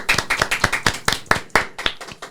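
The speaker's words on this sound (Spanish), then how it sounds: "así que un aplauso." Clapping from a studio audience welcoming a doctor onto a talk show, about a dozen sharp, distinct claps in an uneven rhythm, close and fairly loud, with no voices.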